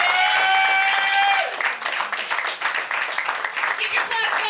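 Audience at a comedy show applauding and cheering; a sustained musical tone fades as dense clapping builds and keeps going, fairly loud, with crowd voices mixed in.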